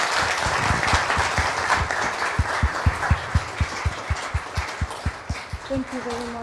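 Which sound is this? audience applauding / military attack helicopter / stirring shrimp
audience applauding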